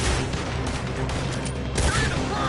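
Dense film gunfire erupts right after a shouted order to fire, a continuous loud volley of overlapping shots with booming low end lasting throughout, with a voice faintly underneath.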